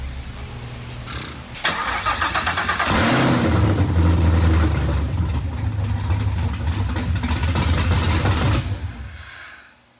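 A 1967 Chevrolet Camaro SS with a swapped LT4 V8 cranks and fires up, then settles into a loud, rumbling idle with rising revs close by before cutting off.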